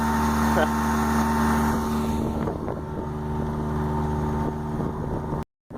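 A sailboat motors at full throttle down a river channel after leaving a lock, its engine drone steady and loud up close with wind buffeting the microphone until the sound cuts off abruptly near the end.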